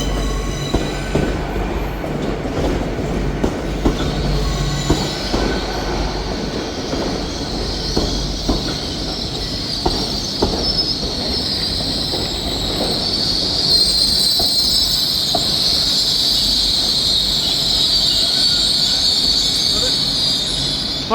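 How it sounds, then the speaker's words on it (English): An LNER train, unit 800-109, pulls out of Perth station on its Inverness to London King's Cross service, with a steady rumble, rhythmic wheel clatter and a rising, sustained high wheel squeal growing louder over about twenty seconds. "Departing out now is the 12:01 LNER service from Inverness to London King's Cross."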